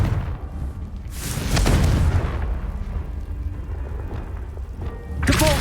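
A Confringo fire spell explodes in the Hogwarts Legacy video game, a booming blast with a deep rumbling tail, then a second burst near the end, loud and close with no talk.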